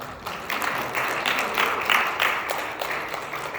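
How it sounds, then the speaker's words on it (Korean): A church congregation claps together in a steady, dense round of applause that holds at an even level throughout, with no talking over it. "박수를 보내겠습니다"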